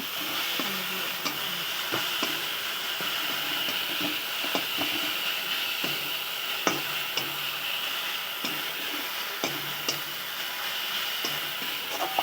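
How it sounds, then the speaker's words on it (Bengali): Cumin powder being stirred into a cooking pan for a spiced fish and potato curry, with a soft steady sizzle broken by irregular scraping ticks of the spoon against the pan. "দেওয়ার পরে ভালো করে নেড়ে নেব"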